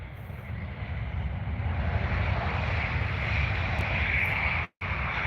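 A Ryanair Boeing 737 landing at Stansted airport gives off a loud, steady jet roar that holds evenly throughout, broken by a brief dropout near the end, with no talking.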